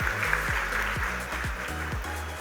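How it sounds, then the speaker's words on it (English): An audience at a business school orientation for the 2024 batch applauds in a hall, a steady wash of clapping from many hands, with faint low voices or tones beneath. "So give a round of applause to your parents and the people who are supporting you in this"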